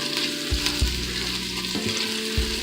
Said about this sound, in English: We're just going to get a nice sweat on these onions.